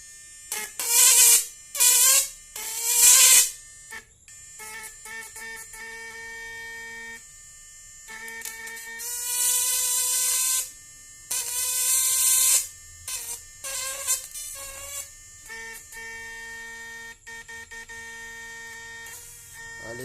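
A 2000-watt power inverter built with 8 MOSFETs crackles and buzzes in spark testing, with harsh bursts of arcing in irregular clusters separated by quieter humming stretches, close and fairly loud, with no talking.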